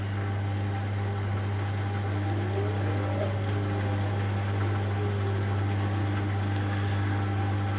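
Empty drum of an LG direct drive washing machine turning before the spin, a steady low motor hum with a brief faint whine, close and without voices.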